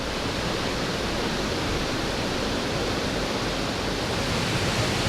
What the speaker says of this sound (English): The app eventually leads me here to Ness Waterfall, which is the highest waterfall in Northern Ireland.